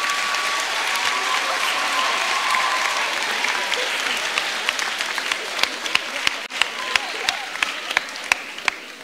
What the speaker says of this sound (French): je vous invite à les applaudir de toute votre force.